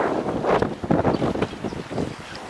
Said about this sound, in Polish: bardzo tutaj wieje